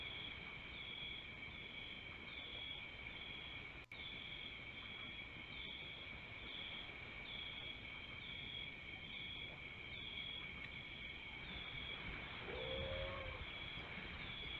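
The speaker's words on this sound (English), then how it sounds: "Why are the crickets so freaking loud?" Loud, steady chorus of crickets in the Jurassic Park: Operation Genesis video game, a pulsing high chirping that runs unbroken throughout over a low ambient hum.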